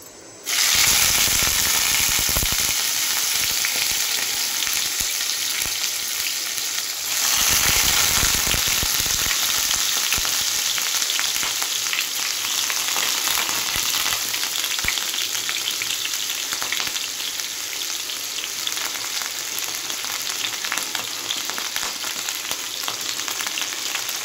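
Sliced onions and torn green chillies sizzle in hot oil in a wok, a steady loud frying hiss with a brief surge partway through, no talking.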